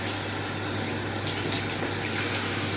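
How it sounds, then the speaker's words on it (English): Tap water runs in a steady, close hiss while hair dye is rinsed out, a constant rush with no pauses. "I don't know if you can see, but the water's running"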